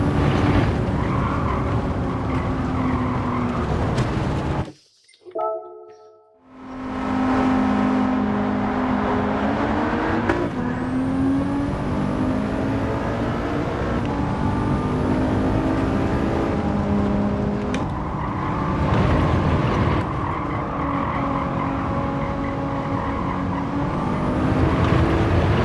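A race car is driven hard in Gran Turismo 7 on PS5, with its engine rising and falling through repeated gear changes and loud tire squeal. The engine cuts out briefly near the start, then roars back and stays continuous with no speech.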